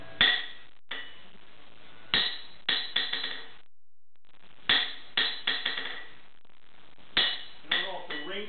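Hammer blows on a steel anvil in a blacksmith's shop, struck in quick clustered groups of sharp metallic strikes with bright ringing tails and short silent pauses between bursts, close and clear.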